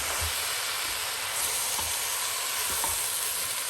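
Curry aubergine sizzling loudly in a pan while being stirred, a dense continuous hiss with occasional scraping knocks, close up and with no voices.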